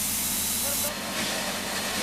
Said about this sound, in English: An electrical generator that powers her headlight is also steam-powered.